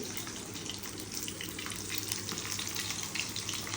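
Chicken frying in a pan for an afternoon snack gives a steady dense sizzle and crackle, close and continuous with light popping throughout and no talk.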